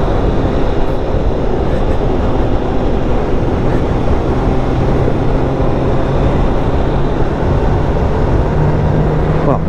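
A Honda CBR Fireblade motorcycle with its original exhaust roars steadily at speed on a night ride, the dense engine rumble and wind noise loud and unbroken throughout.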